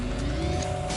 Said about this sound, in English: Left foot on brake, right foot mash the throttle, right hand hold that back for 1, 2, 3, 4, 5. Come off the brake.